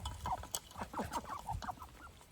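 Ducks peck and dabble at feed up close, with soft quacks, clucks and wet nibbling sounds scattered throughout.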